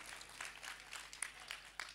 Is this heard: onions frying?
no